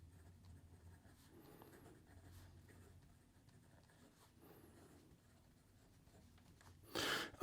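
Epitome Bespoke fountain pen with a hooded stainless steel nib writing on paper: faint, soft scratchy strokes in short bursts, close and quiet, ending in a sudden loud rustle.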